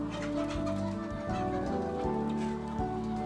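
Korean native chickens cluck and murmur on a farm, a steady layered clucking from several birds close by with a continuous low hum underneath.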